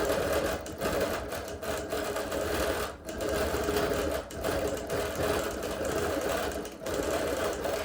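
A sewing machine stitches continuously while machine quilting leaves and curved crosshatching on a show quilt, a steady close rapid whir broken by a few brief pauses, with no talking.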